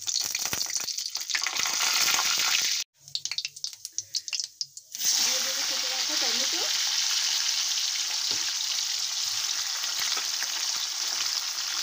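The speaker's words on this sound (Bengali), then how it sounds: "গরম তেলের মধ্যে দিয়ে দেবো জিরে" Cumin seeds drop into hot oil in a wok and burst into a loud, steady, close sizzle, briefly dipping to scattered crackles before settling back into a continuous frying hiss.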